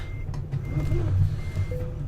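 Reversing beeps from a truck in Euro Truck Simulator 2 sound as a steady electronic tone over a low engine rumble, clear but not dominant.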